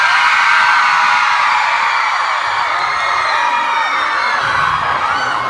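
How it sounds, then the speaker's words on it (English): A packed concert audience at the Neptune Theater in Seattle roars continuously with whoops, yells and cheering, loud and dense throughout with no pauses. "Seattle, I think you guys might be the loudest crowd so far."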